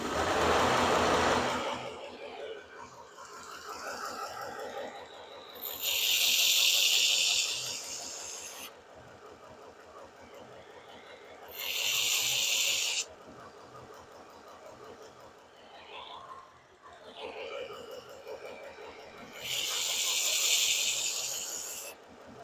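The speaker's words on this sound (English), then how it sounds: "I decided I want to try taking one of these and doing a Scotch-Brite belt finish on the bevels on these." A belt sander fitted with a Scotch-Brite belt finishes the bevels of a knife made from a farrier rasp, giving a few hissing, rasping grinds of several seconds each over a low motor hum.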